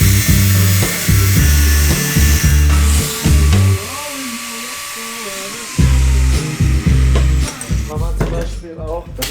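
Power grinder cuts into the steel rear frame of a BMW R80 motorcycle, loud close whining bursts that stop and restart, with a few pauses where the motor spins down.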